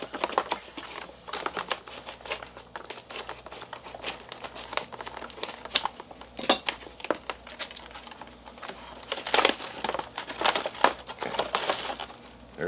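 A freeze-dried steak and potatoes pouch being torn and pulled open, with close, crisp crinkling and crackling of foil-lined plastic in irregular bursts, sharper rips standing out now and then.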